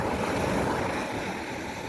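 Steady surf washes up the shore at Maliya Beach in Kuwait City, a continuous broad rush of waves with some wind, and no voices.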